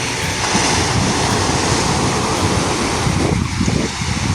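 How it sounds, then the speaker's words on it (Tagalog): Strong ocean waves at a Bicol beach on a rainy night, a loud constant wash of surf with wind rumble against the microphone, continuous and close, with no voices. "Lakas ng alon."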